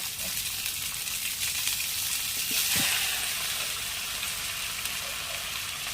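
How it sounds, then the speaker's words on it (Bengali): Rice tipped into a hot pan for fried rice sizzles loudly and steadily, with a faint clink of stirring midway. "তা এবার ফ্রাইড রাইসের চালটা দিয়ে দেওয়া হচ্ছে।"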